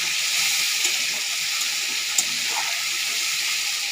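Shrimp fry in a pan with a loud, steady sizzle. Faint scattered pops rise now and then above a continuous bright hiss.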